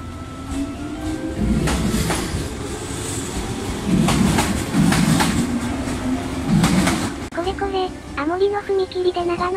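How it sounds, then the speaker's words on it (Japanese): A one-man electric train on the Shinano Railway pulls away from the platform toward Nagano, its motor and wheels rumbling loudly and clattering over the rails, with people talking nearby. "長野駅ワンマン電車が発車しますので、軽井沢リゾート号と同様に動画でお見送りします"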